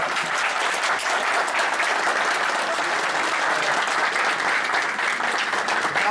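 Audience applause for the second candidate at a village head election in Lubczyn, Poland: sustained, even clapping from a room full of people, loud and continuous for several seconds with no talk over it.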